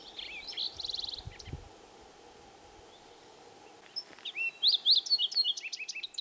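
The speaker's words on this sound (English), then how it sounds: "There's also green-tailed towhees, with their orange crowns, olive green backs, white throats," A green-tailed towhee sings on Horse Mountain in May, giving short bright chirpy phrases near the start and a louder run of quick whistled notes toward the end over a quiet background.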